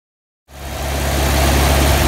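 A car engine fires up after a spark plug change and settles into a loud, close, steady idle with a low rumbling throb, following a brief moment of silence.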